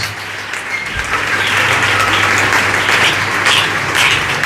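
A church congregation breaks into applause, starting thinly and swelling within a second into full, sustained clapping from many people over a low hum, loud and close throughout.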